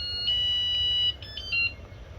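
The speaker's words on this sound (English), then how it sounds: "it's like the car alarms that do that" Alarm mod fitted to a 2019 Pelican Catch 130 kayak, giving a faint, thin electronic chirping tone in a few brief pulses over steady low rumbling background noise, quiet and somewhat distant.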